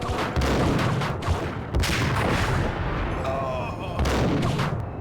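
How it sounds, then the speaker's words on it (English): Sniper rifle shots in the Max Payne video game, loud booming reports at a slow, irregular pace with game sound in between. "I guess I gotta pull out the sniper again"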